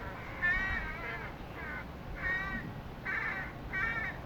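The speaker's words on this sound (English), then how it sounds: "Can you hear that bird?" A crow-like bird caws outside in a repeated series of four or five hoarse calls, spaced about a second apart, moderately distant against a steady background hiss with no talking.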